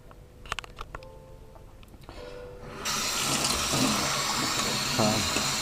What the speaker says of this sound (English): just quick rinse, cold water